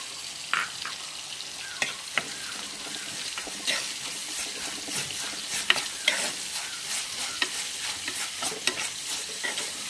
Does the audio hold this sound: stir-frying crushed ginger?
yes